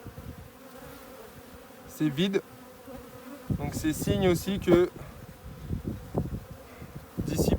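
Honey bees hum continuously around an open Dadant hive during a colony split, their buzzing close and steady beneath someone speaking.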